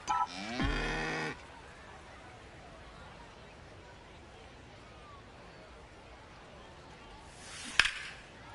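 A cow moo in a radio advert for cow insurance during a baseball broadcast, a loud drawn-out low moo at the start, followed by quieter background and a short sharp crack near the end.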